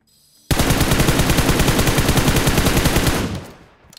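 Sustained rapid automatic gunfire in a multiplayer shooter game bursts in loud and close, rattling steadily for about three seconds before trailing away.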